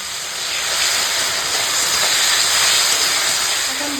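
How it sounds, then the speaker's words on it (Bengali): Spice paste of chopped tomato, green chilli, ginger-garlic paste, cumin paste, salt, chilli powder and turmeric frying in a pan, giving a steady loud hiss and sizzle that holds throughout without pause. "মশলাটা কষাচ্ছি তো এখন"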